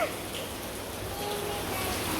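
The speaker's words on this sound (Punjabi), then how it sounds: "ਦੇਖੋ ਕਿੰਨੀ ਬਾਰਿਸ਼ ਹੋ ਰਹੀ ਹੈ ਕਿੰਨੀ ਤੇਜ਼" Steady rain hisses down in a dense, even wash of noise, with faint voices in the background.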